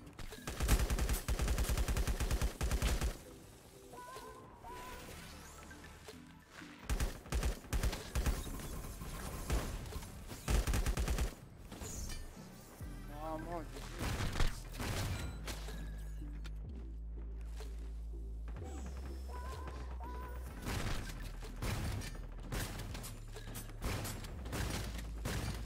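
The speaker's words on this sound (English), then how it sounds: "Kept shooting." Rapid bursts of video game gunfire from LifeAfter crackle loudly in the foreground, with dense automatic volleys over a low rumbling game score and scattered mechanical clicks between bursts.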